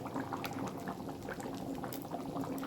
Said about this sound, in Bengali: তারপর টকবক করে যখন ফুটে যাবে